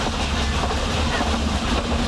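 Express train running on rails in the MSTS train simulator game, a steady rumbling roll with a faint rhythmic clatter of wheels and a light hiss, continuous throughout.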